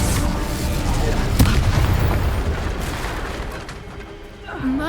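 A fire spell cast in the Hogwarts Legacy video game lands as a loud burst amid continuous explosive, booming combat noise, with a spoken incantation over it.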